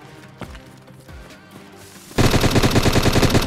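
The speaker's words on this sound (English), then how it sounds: "Oh, he's shooting at me right now." In the video game DayZ, a loud burst of rapid automatic gunfire rattles out close by, following a few quieter, scattered shots and thuds.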